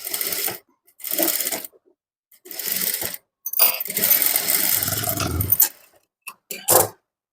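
A sewing machine stitches piping onto fabric in several short bursts of fast, rattling needle action separated by brief pauses, close and clear with no talk.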